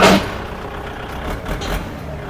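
A Kubota L5018SP tractor with a shuttle gearbox runs during a test drive, its diesel engine giving a close, steady low rumble after a brief louder burst at the start.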